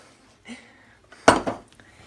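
A spatula scrapes a mixing bowl while making chocolate mousse, giving a few short scraping and clinking strokes with one sharper scrape near the middle, close and fairly loud, without speech.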